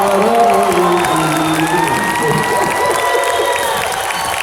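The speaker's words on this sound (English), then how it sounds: "You're clapping for that?" A crowd at a live geek convention stage show in Curitiba claps and cheers in a steady, dense wash of applause with scattered whoops, while a voice talks over it near the start.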